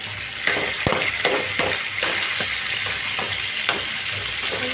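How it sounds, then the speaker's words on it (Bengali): Katla fish head pieces fry in a pan, making a loud, close, continuous sizzle broken by repeated sharp scrapes of stirring, with no voices. "ভেতরেও মাছগুলো ভালো করে ভাজা হবে"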